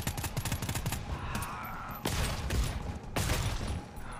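Video game gunfire in a blind-challenge match, a continuous barrage of rapid shots with two sharp louder cracks standing out, close and dense throughout.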